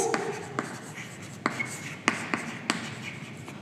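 Handwriting during an accounting lesson on a cash flow statement, with sharp, separate pen or chalk strokes landing at an uneven pace, close and fairly loud against a quiet room.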